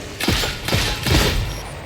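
Three sharp gunshots ring out in quick succession in the video game Warhammer 40,000: Darktide, loud and close, each with a brief crackling tail, with no talk.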